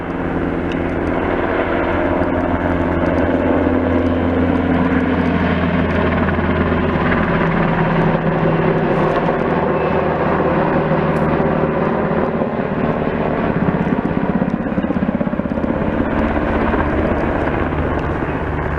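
A firefighting helicopter dropping water on a fire drones steadily overhead, its loud rotor and engine roar continuous and unbroken with no voices.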